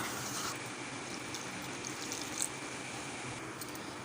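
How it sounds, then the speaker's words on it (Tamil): Water poured from a glass onto crushed jaggery in a cooking pan: a steady, continuous wash of liquid that holds close and even for about four seconds, with no talk over it. "ஒரு அரை டம்ளர் தண்ணி விட்டுக்கலாம்"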